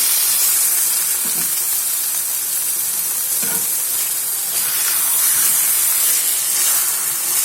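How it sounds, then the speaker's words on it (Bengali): Taro leaves (kochu shak) fry in a pan, giving a loud, continuous bright sizzle and hiss with occasional faint stirring scrapes and no talk. "আর এইদিকে আছে কচু শাকটা ভাজি করতেছি।"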